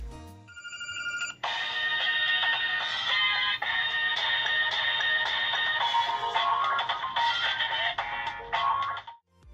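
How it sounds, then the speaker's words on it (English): A Samsung Galaxy S Plus loudspeaker plays a bright, melodic electronic ringtone loudly for several seconds, then stops abruptly. "This is how the speaker sounds."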